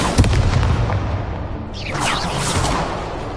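An Expulso blasting spell is cast in the Hogwarts Legacy video game, a loud booming burst followed by a crackling, rumbling explosion that trails off over a few seconds.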